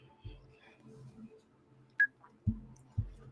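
Phone call being placed on a talk show, a short tone at the start followed by a few muffled knocks and clicks, with quiet low murmuring underneath before the line connects.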